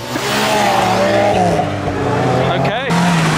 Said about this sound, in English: The second skid we have seen.